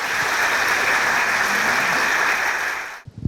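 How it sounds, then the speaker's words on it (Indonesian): Audience applause at an Indonesian KICK ANDY television talk show, a loud dense burst of clapping holding steady before cutting off abruptly near the end. "Kita berikan aplaus."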